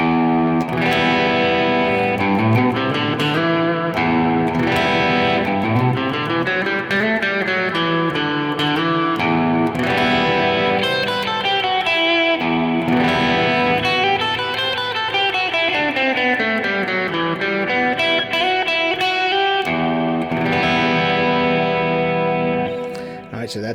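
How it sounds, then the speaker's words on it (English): Electric guitar run through effects, a distorted, chorused tone improvising melodic lines in the E Aeolian minor mode, loud and continuous with sustained notes and sliding phrases throughout. "that's the sound of the E Aeolian mode"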